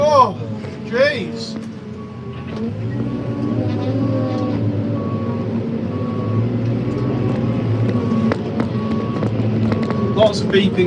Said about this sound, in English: Lots of beeping going on, lots of bales getting wrapped.